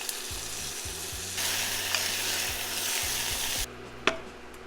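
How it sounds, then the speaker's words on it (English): Rinsed basmati rice toasting in a little butter in a small pot, stirred with soft scraping and clinks over a rising sizzle that drops off near the end. "The rinsed rice is gonna go into the butter to toast it."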